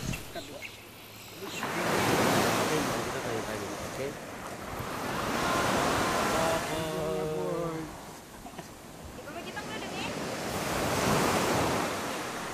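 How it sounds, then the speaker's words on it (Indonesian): Ocean waves break on Amai Beach at Depapre, Papua, in broad rushing surges that swell and fade in slow cycles, with wind buffeting the microphone and faint voices underneath. "kita lihat pantai ini kan bagus sekali"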